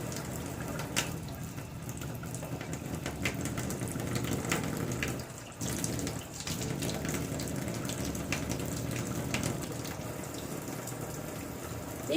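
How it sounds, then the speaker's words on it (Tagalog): A tap runs steadily into a sink for surgical hand scrubbing, a continuous close splashing stream that briefly dips midway, probably as the flow is adjusted, with faint clicks and knocks over it. "Turn on the water and adjust the temperature."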